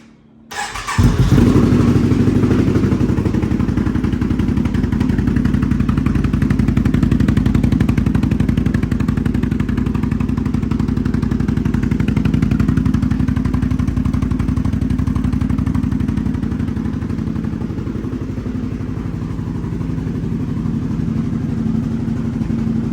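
A Can-Am Renegade XMR 570 ATV fitted with a BigGun Evo U exhaust cranks and fires up, then settles into a loud, steady, burbling idle close by, with no talking.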